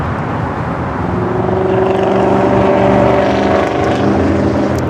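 An Air France Boeing 777-300 jet arriving from Paris at LAX, heard as a steady, loud engine roar with a rising whine that swells and holds for several seconds, with no talk.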